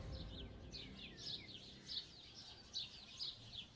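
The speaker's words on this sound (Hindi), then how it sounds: "सुबह सुबह जंगल से उठती जानवरों और पक्षियों की आवाजों से क्षितिज की नींद टूट गई।" Birds chirp and call repeatedly in a morning forest, a series of bright, moderately distant tweets over a low, steady background hum.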